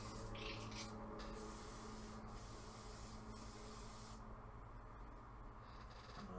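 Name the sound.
airbrush spraying cleaner to clean out yellow paint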